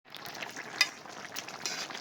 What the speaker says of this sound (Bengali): রসুন জিরে বাটা দিয়েছি, একটু সামান্য ফুটিয়ে নেব।